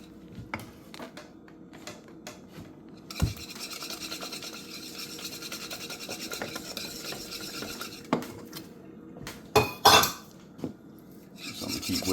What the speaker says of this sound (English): So I'm gonna keep whisking it.